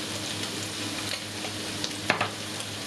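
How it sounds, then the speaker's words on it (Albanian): Onion and minced meat frying in a pan, a steady close sizzle with occasional stirring scrapes and clicks, no voices. "E kemi kavurdisur për disa minuta qepën me mishin e grirë"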